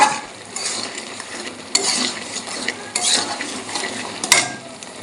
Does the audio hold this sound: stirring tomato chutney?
yes